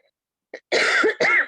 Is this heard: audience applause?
no